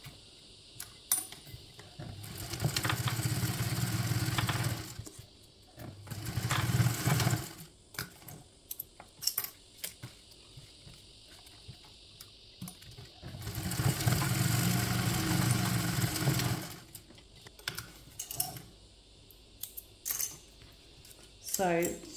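A sewing machine stitches a quarter-inch seam in several bursts of fast whirring, each a few seconds long, separated by short pauses and small clicks of handling.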